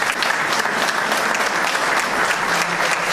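An audience at an outdoor award ceremony gives steady, dense applause, loud and close, continuing evenly without pause.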